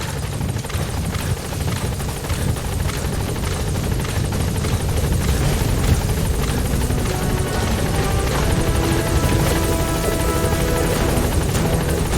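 A support helicopter arrives in the video game Metal Gear Solid V, its rotor thudding and engine droning loud and steady throughout, with no talk over it.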